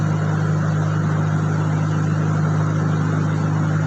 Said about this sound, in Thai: จะได้ยินเสียงสตาร์ทข้างนอกอัตโนมัติแล้วก็